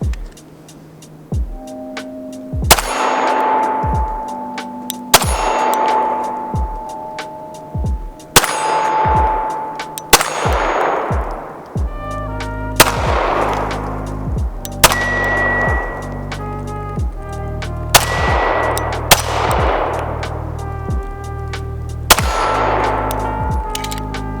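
Pistol shots from a Springfield Range Officer Elite 1911 striking freshly painted steel targets ring out as about nine sharp, evenly spaced reports, each followed by a bright metallic clang and a long ringing decay, loud and close, with no talk.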